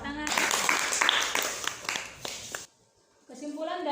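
Students in a classroom applaud after a presentation, a loud burst of many hands clapping that stops abruptly, followed by a brief silence and then a teacher's voice speaking.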